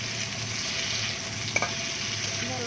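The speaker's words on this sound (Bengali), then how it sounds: "আলু দিয়ে লাল লাল করে ভাজি নিতে" Two potatoes fry in oil in a pan over low heat, giving a continuous soft sizzle with a faint stir partway through.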